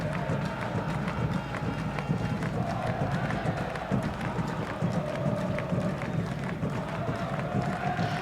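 A soccer crowd at an Orlando City SC playoff match against Harrisburg keeps up a steady, distant roar with scattered claps and drumming, continuous and even throughout.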